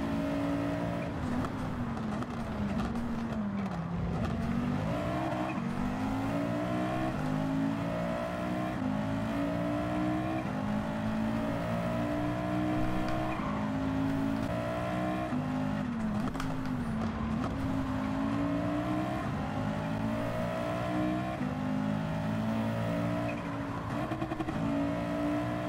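A light race car with no traction control in Gran Turismo 7, driven on a dirt course, produces a steady engine drone with repeated revving rises and dips as the driver brakes and works the throttle.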